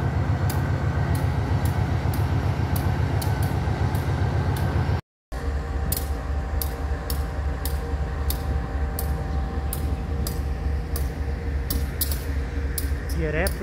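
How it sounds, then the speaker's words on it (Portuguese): A Rumo freight locomotive departing the old Americana railway station, a loud, close, steady diesel rumble with rhythmic clatter over the rails, and a short horn-like tone near the end. "Para mostrar para vocês aqui essa locomotiva"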